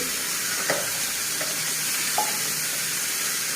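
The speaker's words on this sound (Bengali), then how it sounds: "মাছগুলো একটু উল্টায় দিই," Rohu fish pieces frying lightly in a pan give a steady, soft sizzle with a few brief clicks from turning them, close by and without talk.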